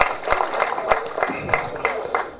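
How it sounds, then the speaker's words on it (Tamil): Audience applause at a Tamil movie audio launch event, scattered claps and cheering from a crowd in a hall, moderately loud with irregular peaks and no speech over it. "நல்ல கைத்தட்டு கொடுங்க எங்கள் ஹீரோக்கு."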